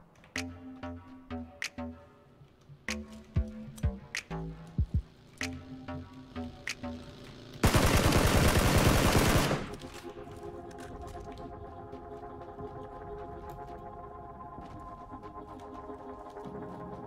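Single shots ring out at intervals in PUBG. Then comes a loud two-second blast and a lingering low rumble after it, with no talking.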